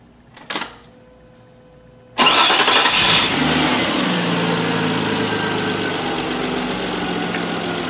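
A brief click and whir, then a car engine cranks and catches, settling into a steady, loud idle that hums on to the end.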